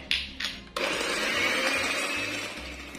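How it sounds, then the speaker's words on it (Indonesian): Electric mixer beating sugar, vanilla powder and salt for bika ambon, two brief starts then a steady whirring drone close by, with no talk. "Mixernya sampai gulanya larut atau sedikit mengembang aja"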